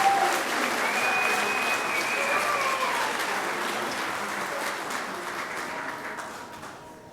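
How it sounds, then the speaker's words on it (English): An audience applauds fifth grade graduates at their graduation ceremony, a full, steady round of clapping that starts strong and slowly tapers over several seconds, with a faint whistle or cheer near the beginning. "let's give them one round of applause before we celebrate them individually"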